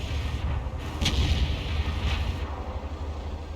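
Tank cannon shots in World of Tanks: a few heavy booming reports, one sharp blast near the start and a softer one later, over a low steady engine rumble with no voices.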